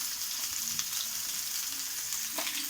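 Chicken fries in hot oil in a pan, giving a steady, close sizzle with light crackles and no voices.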